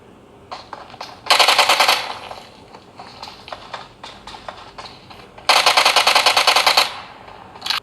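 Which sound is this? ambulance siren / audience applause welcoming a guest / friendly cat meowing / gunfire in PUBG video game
gunfire in PUBG video game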